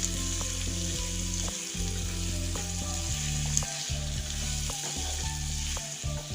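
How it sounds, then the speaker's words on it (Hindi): Medium potatoes cut into quarters fry with onions in a pan for an aloo shimla mirch sabji: a steady, close sizzle with intermittent clinks and scrapes of stirring, no voices. "प्याज के साथ इनको भी भून लेंगे।"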